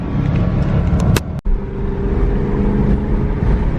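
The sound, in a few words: Nissan 370z Nismo drift car accelerating hard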